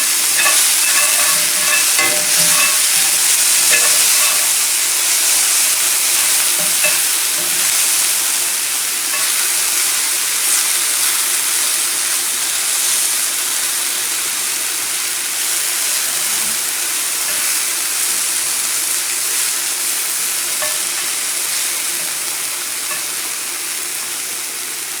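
Garden vegetables sizzle steadily in a frying pan before eggs go in, a dense, loud hiss of frying with occasional stirring scrapes, easing slightly toward the end.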